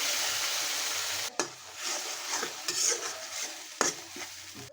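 Prawns and spice paste sizzle in a pan for a Bengali prawn and star fruit curry. A spoon scrapes and stirs in steady strokes, with two sharp clatters partway through.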